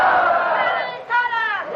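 A large crowd at a religious gathering on the Prophet's life in Multan shouts a slogan in unison, a loud sustained chant that dips briefly and then rises again.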